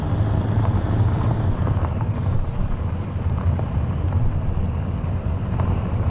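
Wind rushes through the open windows of a semi truck hauling 45 tons of hay in American Truck Simulator. A steady, loud roar with low engine rumble continues without pause, with no talk.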